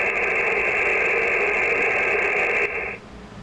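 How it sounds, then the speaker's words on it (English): Steady loud hiss of atmospheric static from an Icom M-802 marine HF radio with no signal received, holding constant for about three seconds before dropping abruptly to a quieter hiss. "I'll turn the volume up and all you'll hear is normal atmospheric static."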